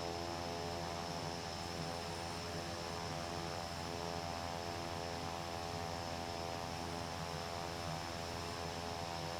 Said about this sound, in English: That should be starting our engine now on this side.